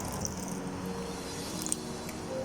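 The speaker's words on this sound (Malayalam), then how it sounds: "അപ്പം നമുക്ക് ലാസ്റ്റ് ബാക്കിയുള്ള തേങ്ങാപ്പാൽ കൂടി ഒഴിച്ചെടുക്കാം." Coconut milk pours into a simmering jackfruit-seed payasam for a Vishu festive dish, a soft, steady wet trickle with faint splashy squelches, quiet and close, with no talking.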